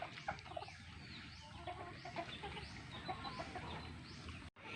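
Buff Orpington breeder hens and native chickens on a farm cluck softly in a continuous low chatter with scattered short calls, faint and somewhat distant, with no voices.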